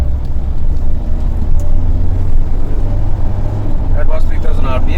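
A Mahindra Thar diesel automatic accelerates hard out of a city U-turn toward 3000 RPM. A loud, steady in-cabin engine drone and road rumble hold throughout, with a brief rise near the end.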